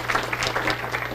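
A room of people claps steadily for scholarship recipients at an honor reception, a brief even burst of applause over a low hum.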